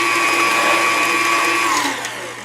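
An electric mixer whirs loudly and steadily through banana bread batter of melted butter and eggs, a close high-pitched motor whine that winds down near the end.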